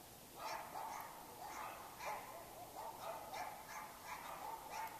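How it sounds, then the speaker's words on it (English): Several dogs bark intermittently at a distance, short repeated yaps and woofs over a soft outdoor background hiss at a cemetery in Rusk, Texas. "the dogs barking in the background"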